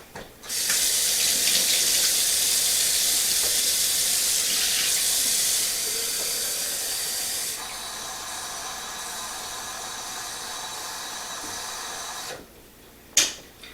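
Kitchen tap runs hard and steady, a bright rushing hiss of water filling a container, softening partway through before shutting off near the end with a small clunk.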